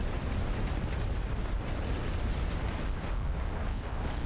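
Mortar and artillery fire in the World War I strategy game The Great War: Western Front rumbles as a continuous, dense barrage of distant explosions, steady and booming throughout with no pauses.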